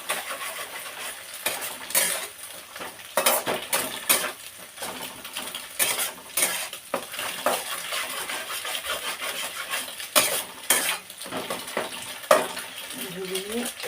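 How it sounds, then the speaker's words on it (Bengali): Egg frying in hot oil with tempering spices in a home kitchen pan for chowmein, clattering utensil scrapes and clinks over a low continuous sizzle, with intermittent sharp metallic knocks throughout. "ডিমটা একটু তেলের উপরে ভেজে নেব"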